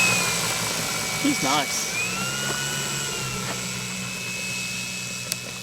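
Electric motor of an RC Yak-11 model plane taxiing on the ground, a steady high whine with a constant tone running through the whole stretch, while someone talks briefly over it outdoors.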